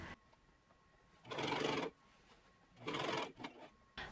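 A sewing machine stitches the neckline facing onto a gold kaftan top in two loud bursts of running, separated by quiet pauses with small handling noises.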